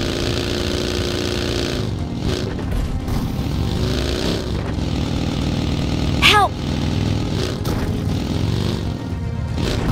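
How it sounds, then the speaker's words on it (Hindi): Buggy engine droning steadily while driving in the mobile battle royale game BGMI, a continuous mid-pitched hum with slight revving swells and a brief sharp chirp partway through, heard alongside speech. "तो फटाफट यार मैं अपनी बग्घी उड़ाता हूँ"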